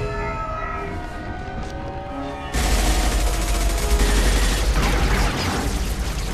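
Dense, continuous gunfire in the video game Mass Effect 2, a loud, unbroken wash of rapid shots that grows heavier and closer partway through, with no voices.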